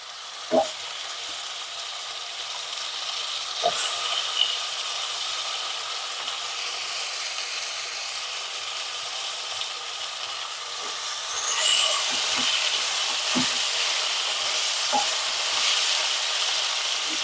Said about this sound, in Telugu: ఇది ఇక్కడ వేగుతూ ఉంటుంది